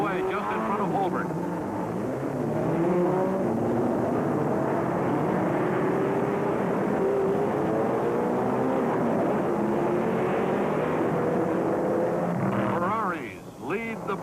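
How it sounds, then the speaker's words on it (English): Race cars at the start of the 1964 Sebring 12 Hours endurance race roar past in a dense, droning pack of engines, pitches sweeping up and down, continuous and fairly loud throughout, with commentary over the top. "Ferraris lead the pack into the first turn."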